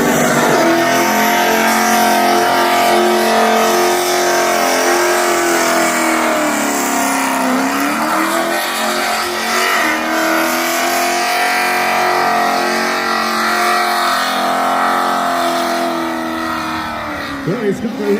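A race car engine revs hard and loud at a motorfest, a sustained rising and falling roar with strong harmonic whine held close by for the full length, easing slightly near the end.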